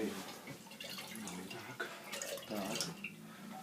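Holy water is splashed onto a dog during a mock exorcism, with soft, close wet spatters and drips running throughout while a voice speaks briefly.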